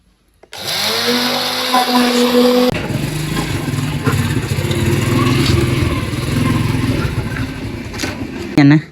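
An electric kitchen grinder runs to grind ingredients at home, a loud, steady whirring drone lasting several seconds with a brief clunk near the end, and voices are faintly audible under it.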